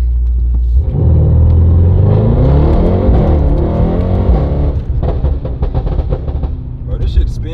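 A Mercedes-AMG GT63s, blacked out and driven at night, accelerates hard with a loud, close engine roar that climbs through the revs, then settles into a lower rumble with brief bursts of throttle.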